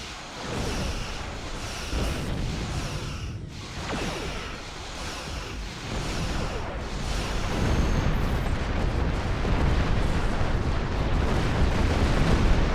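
Starship weapons fire in Star Trek Online, a dense roar of booming blasts and whooshing energy bolts building steadily in loudness, with no talk over it.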